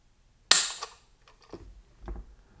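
Trigger of a Cobalt Kinetics SPR Elite 6mm ARC precision AR released during a gauge pull, a single sharp mechanical snap up close, followed by faint clicks and light handling noises.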